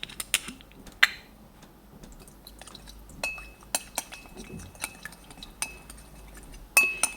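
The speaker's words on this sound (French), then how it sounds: "je mélange bien pour dissoudre la moutarde avec le vinaigre" A spoon stirs a mustard and balsamic vinegar vinaigrette in a bowl, giving a series of quiet, irregular clinks and taps against the dish over a faint background.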